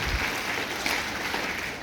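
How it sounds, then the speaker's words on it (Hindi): Dense applause from an audience at a health talk on brain-boosting foods, a steady clatter of many hands clapping together for a couple of seconds before easing off. "एक बार इसके लिए जोरदार तालियां बजाइए भैया के लिए"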